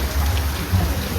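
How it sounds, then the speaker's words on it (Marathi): Heavy rain pours steadily outside a roadside dhaba in flooded Vasai, a dense, continuous hiss that fills the whole moment with no voices. "बाहेर पाऊस पडतो जाम जोरात"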